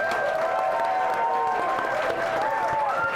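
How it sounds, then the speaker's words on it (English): An audience at a political gathering in Alaska claps and cheers steadily, the applause blending with tonal whoops and shouts throughout. "They'll cheer for anything."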